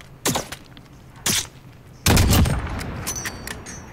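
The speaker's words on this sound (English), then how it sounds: "It sounds like a space gun" Sharp weapon blasts in a Call of Duty: Modern Warfare special ops mission, two short bursts followed by a louder, longer crackling volley with scattered trailing zaps, loud and close.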